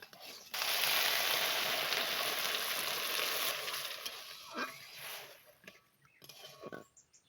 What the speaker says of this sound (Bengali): মুগ ডালগুলোকে ঘিয়ের সঙ্গে দু তিন মিনিট ভালো করে ভেজে নিলাম এবার এখানে খুব অল্প পরিমাণে জল দিয়ে দিচ্ছি